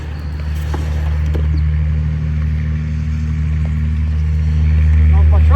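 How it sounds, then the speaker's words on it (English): A white truck drives past on a road close by, its low engine rumble holding steady and swelling slightly as it nears, with scattered clatter around it. "The white truck going by low."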